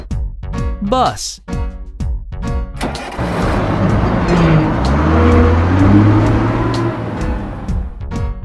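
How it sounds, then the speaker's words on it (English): Toy bus engine sound effect: after a short spoken word, a loud, steady motor rumble with a rising, revving roar swells in and holds close for several seconds. "Bus."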